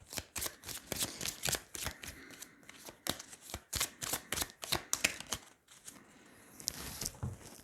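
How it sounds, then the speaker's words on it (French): Tarot cards being shuffled and drawn, a rapid run of crisp papery riffles and snaps that pauses briefly and then resumes, close and fairly soft, with no voice. "Alors, on va tirer 9 cartes pour voir plus précisément."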